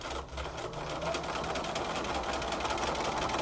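A sewing machine runs continuously during machine quilting, a steady close mechanical whir with a rapid needle chatter and no pauses.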